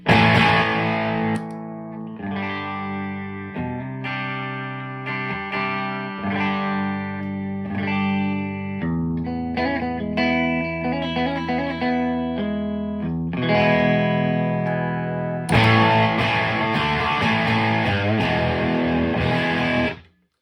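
An electric guitar through an overdrive pedal turned down for a clean tone plays a melodic, fairly clean passage with slight grit and effects, steady throughout, growing brighter and fuller near the end.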